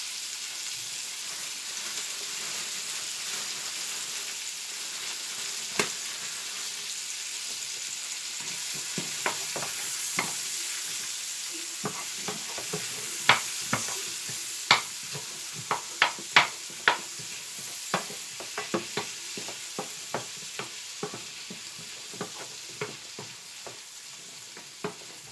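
Onion fries with lamb sausages in a frying pan, making a steady soft sizzle, while repeated sharp clicks and scrapes of stirring grow busier midway.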